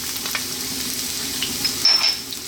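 Ginger sizzling in hot oil in a wok, a steady close crackling hiss with a sharper burst near the end.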